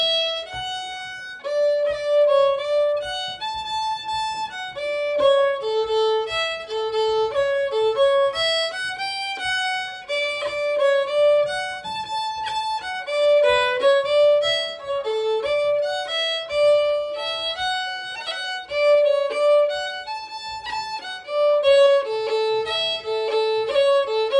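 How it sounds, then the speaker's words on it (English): A lively melody plays part B of the double jig Shandon Bells, a clear solo line of bright, evenly spaced notes in a bouncing triple rhythm running throughout. "this is a video all about part B of a double jig called Shandon Bells"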